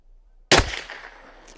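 A single sharp gunshot from a Sako .22 rifle, close and loud, with a short decaying echo after it.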